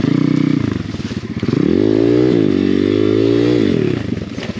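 A cheap Amazon dirt bike's small engine revs hard and close while tackling an abandoned trials trail in the woods, its pitch rising and falling with throttle over clattering and scraping from the rough ground.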